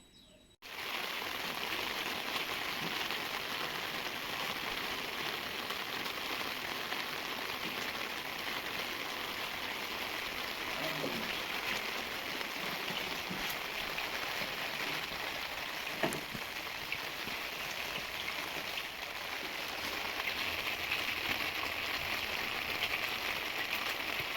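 Rain falls steadily through the whole stretch as a dense, even hiss with only slight shifts in intensity, heard alone with no voices.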